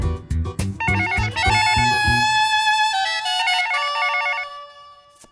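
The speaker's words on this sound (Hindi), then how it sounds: "come on Shakun pick up the phone" A telephone rings with a repeating electronic ringtone, preceded by a few sharp thumps, the ringing pattern cycling steadily before fading toward the end.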